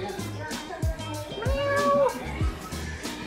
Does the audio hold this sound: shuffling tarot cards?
no